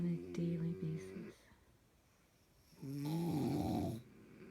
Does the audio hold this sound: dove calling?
no